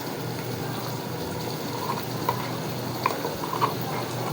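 Onion paste sautéing in a pan for a hilsa fish curry, a steady low sizzle with faint scraping stirs and a few soft clinks of the spoon, close and fairly quiet, no talking.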